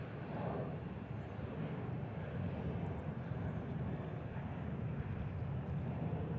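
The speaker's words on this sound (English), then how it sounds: "as the jets leave the runway, they will make the left-hand turn to roughly heading 330 to head up the Potomac River" A jet aircraft departing the runway at Reagan National Airport, heard as a faint, steady engine roar from a distance throughout, with no talk.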